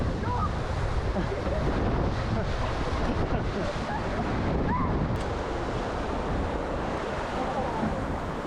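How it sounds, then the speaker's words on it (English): River rapids roar on Desolation Canyon during a low-water raft trip, a dense, constant churn of rushing water close by, with wind buffeting the microphone and voices faint underneath. "those were the fun rapids"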